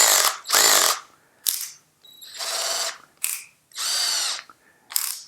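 Bauer 20V lithium 1/2-inch cordless drill with its clutch slipping, giving bursts of rapid mechanical ratcheting clicks in short repeated runs separated by brief pauses, close and crisp with no talk.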